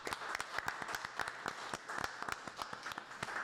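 A small group in a café claps in a short burst, with distinct individual hand claps close by and fairly quiet.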